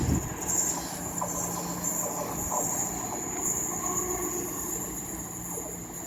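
A British Rail Class 220 unit, 220.003, runs past Cheadle Hulme station on the West Coast Main Line with steady rolling rumble, a high wheel squeal and a clattering burst at the start, holding at a constant level throughout.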